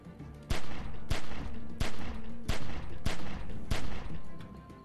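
Gunfire in The Walking Dead video game on PS4 comes as a rhythmic series of about eight loud, sharp shots spaced roughly half a second apart, each trailing into reverberation, over a low background rumble.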